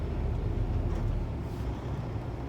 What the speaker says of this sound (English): Well, we're stuck in traffic again.